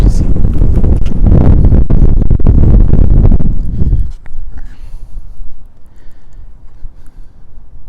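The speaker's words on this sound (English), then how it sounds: "Sorry, really windy out here" Strong wind buffets the microphone outdoors beside a lake in a new housing community, a loud low rumble for about four seconds that then drops to lighter gusts.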